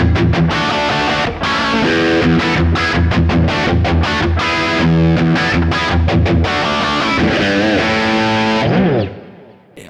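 A 1986 Kramer Baretta electric guitar with a thick old neck plays distorted rhythm parts, loud chugging chords and riffs that cut off abruptly, ending with a quick fading note.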